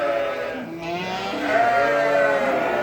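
Lambs bleating at feeding time on a farm, newly bought lambs getting used to feed; several overlapping wavering bleats, fairly close and steady throughout, with no talking.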